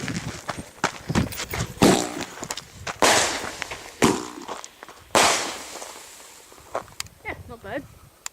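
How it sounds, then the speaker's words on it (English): Artillery shell fireworks bursting at a nighttime show, with a rapid series of loud cracking booms and crackles, some close and some farther off, while people talk nearby. "These are my sister's artillery shells."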